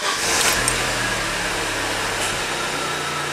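Volkswagen Passat B5 engine running on LPG after starting, a steady low idle hum with a fan-like broadband whoosh, fairly close and alone.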